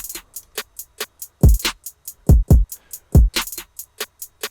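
Trap drum loop: heavy 808 kicks and sharp snares with steady hi-hats, quick hat rolls bunching up around the snare hits.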